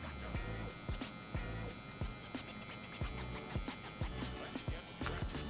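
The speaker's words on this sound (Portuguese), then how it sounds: "Trabalhando aqui somente com a ponta da máquina" Electric hair clipper cutting a fade on curly hair, working with just the tip of the blade: a quiet, steady buzz broken by short repeated scraping strokes about every half second.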